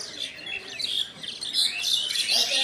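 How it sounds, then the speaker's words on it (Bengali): A large flock of birds, including mynas, chirps and twitters busily at a railway station in Gharinda, Tangail, a dense overlapping chorus of high calls close by. "পাখিগুলো দেখুন কিচিরমিচির করছে"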